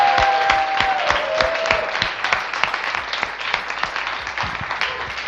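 A crowd at a coding bootcamp demo day gives a long, sustained round of applause. Many sharp, close hand claps blend into an even roar, with a brief tonal squeal at the start.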